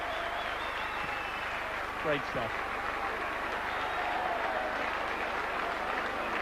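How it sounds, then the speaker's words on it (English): Sustained applause from a large stadium crowd at a 1996 St Helens v Warrington rugby league match, broad and distant, with a commentator talking briefly over the roar. "That's the applause in the background"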